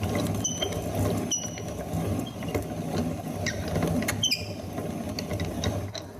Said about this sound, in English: now I'm gonna put them through an old-fashioned grinder. And these are 2 millstones, and the flour will come out here as I grind it.